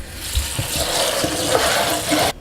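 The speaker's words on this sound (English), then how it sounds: "I'm going to rinse it with cold water." Water runs from a cold tap and splashes into a sink, rinsing macaroni, a steady rushing pour with small clatters, close by.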